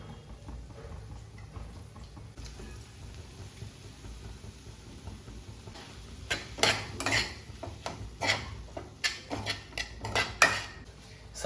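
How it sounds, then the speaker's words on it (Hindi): Vegetables, ghee and a 200-gram block of tofu stirred in a pan, a spatula scraping and clacking in an irregular run of sharp hits that grows busier and louder after a quieter opening. "अब मैं ये एक पूरा ब्लॉक टोफू का डाल रहा हूँ"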